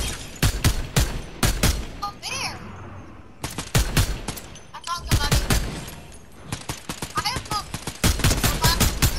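Rapid gunfire in the video game Fortnite, with repeated sharp bursts of shots close together in fast runs throughout, punctuated by brief pauses and other game effects.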